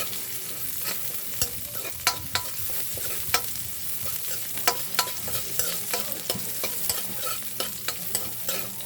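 Chopped onion, added after garlic, sizzles steadily in a hot pan for pork bam-i, with a spoon scraping and stirring in irregular taps over the continuous frying hiss.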